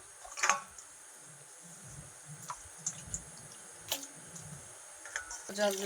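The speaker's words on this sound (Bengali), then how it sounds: "হ্যাঁ মাংসগুলো এখন ধুয়ে তুলে নেব" Raw meat rinsed under running tap water in a home kitchen, with a faint trickle and scattered soft clicks and knocks from handling, all fairly quiet.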